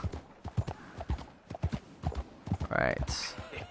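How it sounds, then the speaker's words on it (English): Horse hooves clip-clopping in Red Dead Redemption 2, a run of evenly spaced thuds close by, ending in a short bright whinny near the end. "I just wanted to get on the horse."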